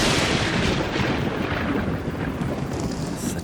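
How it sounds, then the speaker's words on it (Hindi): Thunder from an approaching storm rolls on continuously, a heavy deep rumble filling several seconds at steady loudness with a hiss like wind or rain over it, no voices heard. "ये तूफान आज तो जान ले लेगा।"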